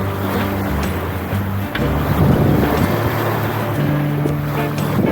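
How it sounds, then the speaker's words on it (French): Sailboat engines running on a calm, nearly flat sea far offshore, a steady low motor drone mixed with wind and water wash, loud and close throughout with no talk. "Voilà les moteurs pour le moment,"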